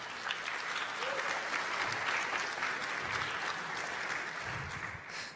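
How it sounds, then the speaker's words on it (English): A conference audience at a web developer event claps in sustained, dense applause for several seconds, close and fairly loud, with a few faint voices mixed in. "And Sarah, give him a big round of applause."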